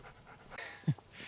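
A puppy pants in short, soft breaths through a dog walk, with a brief louder huff near the end and no talk over it.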